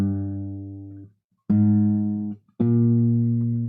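A guitar plays a four-note bass line, three ringing, sustained low notes with bright harmonics, each struck sharply and left to decay before the next, close and alone.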